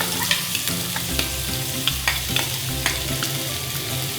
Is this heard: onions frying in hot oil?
yes